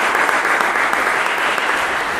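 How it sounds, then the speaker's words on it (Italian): Loud, dense applause for a female singer at a concert of "Le quattro Stagioni" in San Giovanni Lupatoto, a continuous close wash of many hands clapping without a break. "Prego, un applauso a lei."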